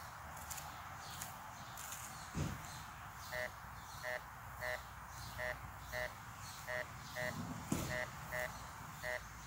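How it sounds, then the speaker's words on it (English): Short electronic beeps from an Urceri 1028 metal detector repeat steadily about every half second, with a low hum and a few thumps underneath. "You can hear the beep yourself,"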